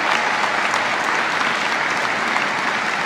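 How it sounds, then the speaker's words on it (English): A large breakfast audience at the Palm Springs Convention Center claps loudly and steadily for sponsors, a dense even wash of hands with no pause. "Let's give them a huge round of applause"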